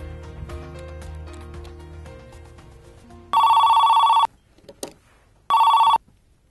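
A telephone bell rings in two loud, steady electronic bursts with a short pause between them, following a faint musical passage, during a role-played fundraising phone call.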